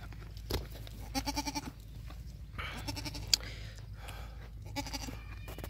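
Domestic goat bleating during hand milking in a rural Indian farmyard: a few short, nasal bleats spread across the clip, moderately close, with faint background chatter and farm noise.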